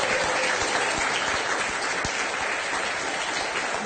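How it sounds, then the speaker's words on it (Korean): Steady, dense applause from a large crowd at a Justice Party (정의당) gathering in honour of party leader Sim Sang-jung, loud and continuous with a few sharper claps throughout. "다시 한번 박수를 보내드리고 싶습니다"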